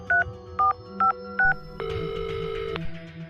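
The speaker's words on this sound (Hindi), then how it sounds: "अर्नब ने वहीं पड़े फोन से इंस्पेक्टर राजू को कॉल लगाया" Four short two-tone keypad beeps in a steady rhythm as a phone number is dialed, followed by a longer sustained ringing tone, loud and close with a faint low hum underneath.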